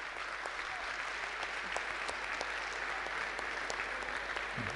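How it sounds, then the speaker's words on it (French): Soft applause from an audience at a basketball clinic opening for the Mandelieu club team, even and continuous, heard faintly and somewhat distant, with no talk over it. "je crois qu'on peut leur faire un petit applaudissement parce qu'ils ont depuis 7 heures ce matin"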